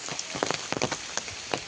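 Rain falling in a village during the first rain, a dense steady patter with scattered louder drops hitting surfaces close by.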